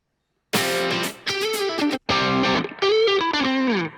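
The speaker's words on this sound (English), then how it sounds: "keep it the same, but add slightly more distortion." A heavily distorted electric guitar plays sustained, gritty phrases in a few bursts separated by brief silences, loud and close.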